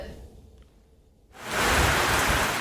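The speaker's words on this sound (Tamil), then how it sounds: "இடியுடன் கூடிய மிதமான மழை பெய்தது" Moderate summer rain with thunder in Kodaikanal: after a quiet moment a dense, loud rushing hiss of rainfall sets in and holds steady, with no talk.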